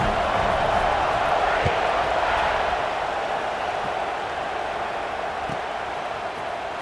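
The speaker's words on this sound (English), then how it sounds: "this crowd is buzzing after that last score" A stadium crowd buzzes during a college football video game, a dense, continuous roar of many distant voices that stays steady and fades only slightly across the clip.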